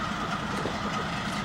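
Holiday train rolling past on tracks in a rail cutting near a tunnel, a steady broad rumble with faint rail clatter, continuous and fairly close for the whole stretch, no voices.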